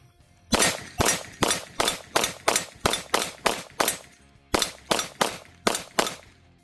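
Glock 48 MOS pistol fitted with a Shield Arms premium magwell fired in a fast string of about fifteen sharp, loud shots, a short pause splitting them into two groups.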